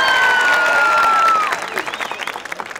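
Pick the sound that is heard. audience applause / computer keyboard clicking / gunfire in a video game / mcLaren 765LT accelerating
audience applause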